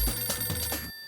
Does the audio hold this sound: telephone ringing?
yes